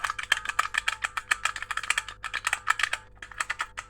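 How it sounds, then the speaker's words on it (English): Spring-loaded keys on a keyboard fiddle toy are tapped in fast, close clicky bursts that sound like a mechanical keyboard, dozens of crisp clacks with short pauses between runs and no talking. "You tap them and it sounds like a mechanical keyboard,"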